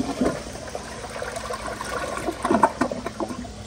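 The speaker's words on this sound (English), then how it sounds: "here's another flush" A 2003 American Standard Champion toilet with a raised bowl flushes, water rushing and gurgling loudly close by, swelling into a stronger surge of swirling drain noise toward the end, no talking.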